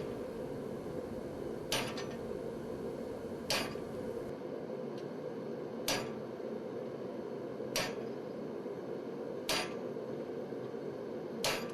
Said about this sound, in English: I use a hot cutter to cut his mouth